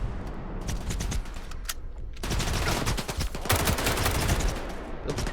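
Rapid bursts of automatic gunfire in STALKER 2: Heart of Chornobyl, crackling continuously at close range with a louder, denser volley in the second half, no talk.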